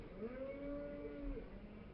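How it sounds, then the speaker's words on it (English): One Dexter cow from a small beef herd lets out a single drawn-out, tonal moo of about a second, fairly close and clear above a low outdoor background, with no one talking. "We've got a tiny herd of Dexter cattle."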